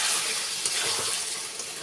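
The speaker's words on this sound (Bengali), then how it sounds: "দিয়ে ভালোভাবে নুনটা আমি মিশিয়ে নিচ্ছি চিকেনের সঙ্গে" Chicken pieces being stirred with salt in a hot pan for chicken kosha, a close, continuous hiss of frying with soft scraping as the meat is mixed, no talking.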